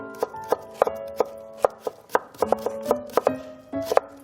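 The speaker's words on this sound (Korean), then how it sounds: "칼질 소리가 아주 좋으네요" A knife chops napa cabbage for kimchi on a board, around twenty crisp, close thuds in an uneven rhythm, with faint tonal ringing between the cuts.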